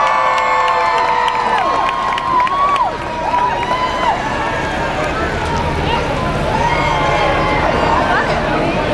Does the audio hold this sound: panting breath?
no